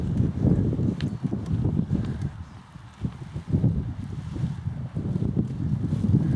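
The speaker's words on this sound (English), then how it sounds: "Beautiful wind for landing right now." Steady, buffeting wind rushes across the microphone during a paramotor landing in a moderate breeze, a continuous gusty roar with low rumbling swells and no voices.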